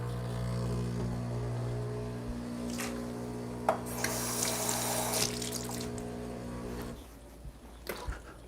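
A Breville Barista Pro espresso machine with a low-pressure fault flushes water through its group head, a steady rushing stream over a low pump hum for about seven seconds, then stops, leaving quieter drips and faint clatter.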